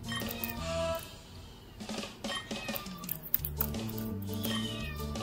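Kitten meows in the video game Troublemaker 2, short faint cries scattered over game music and clinking effects.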